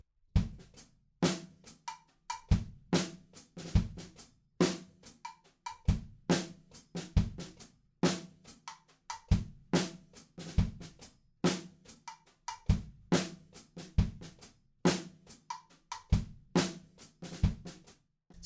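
A drum kit plays a beat slowly with sticks, close up and alone: crisp snare and tom hits and cymbal taps fall in a steady, repeating pattern with clear gaps between strokes.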